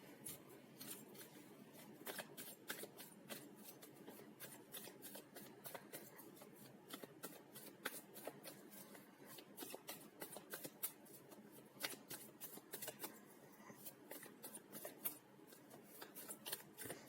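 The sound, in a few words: shuffling tarot cards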